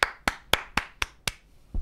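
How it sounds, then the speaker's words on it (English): Six sharp hand claps in a steady, quick rhythm, close and crisp, followed by a short pause and the start of another. "Clap your hands, everybody."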